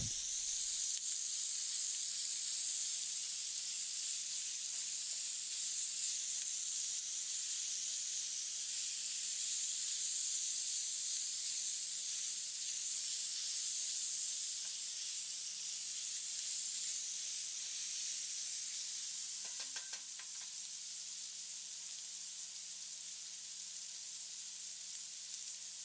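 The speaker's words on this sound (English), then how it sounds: "You gotta love that sizzle." Homemade sausage gravy sizzles steadily in a pan, an even, moderately quiet frying hiss that runs unbroken for nearly half a minute, with a faint clink near the end.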